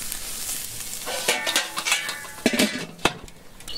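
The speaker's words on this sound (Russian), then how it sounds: "мы сейчас переворачиваем кусок мяса на другую сторону" Beef steak sizzling on a Weber kettle grill as it is turned over, a soft hiss broken by a few sharp scrapes and clicks from a utensil, close by.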